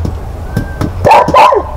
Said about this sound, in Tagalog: Aso natin, oh.